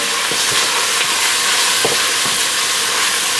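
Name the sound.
bacon and onion sizzling in a pan on the stove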